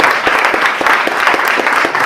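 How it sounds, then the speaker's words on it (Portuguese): Congregation at a Portuguese-language church service applauding in praise of Jesus, a steady patter of hand claps filling the room for a couple of seconds. "Você pode aplaudir o nome do Senhor Jesus?"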